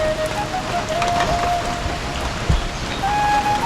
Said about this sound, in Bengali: খুব বৃষ্টি বাইরে আজকে